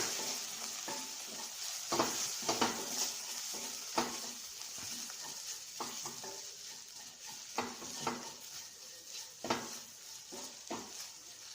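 Chili powder, fenugreek powder and other spices are stirred in a pan for a brinjal and okra curry, making a faint low sizzle with repeated scraping and light knocks of a spoon against the pan.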